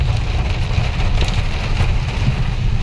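Heavy rain falls in a steady, dense roar on surfaces nearby, with a deep low rumble underneath and scattered louder drops, and no voices.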